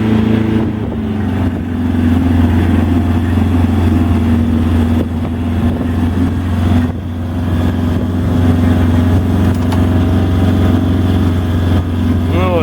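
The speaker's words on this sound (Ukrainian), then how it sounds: "Швидше хто газує ручним газом." A vehicle engine is revved with a hand throttle, holding a steady, loud drone with slight swells in pitch throughout, close by, on a trip to the Masurian Lakes.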